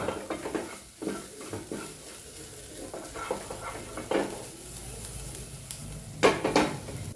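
Onions for paneer bhurji sizzle and fry in a pan at close range, with intermittent scraping and stirring knocks over the steady hiss.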